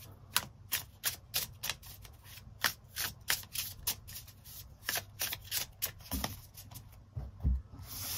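Tarot cards being shuffled and drawn by hand for a reading, a rapid run of crisp riffling snaps and flicks close up, fairly quiet, ending with a few softer taps as cards are set down.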